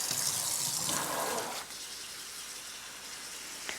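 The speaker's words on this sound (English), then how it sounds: "I'm just gonna use regular tap water and just run it through," Tap water runs steadily through a large houseplant pot to flush out nutrient buildup, a loud close gushing and splashing that eases to a softer, steady trickle partway through.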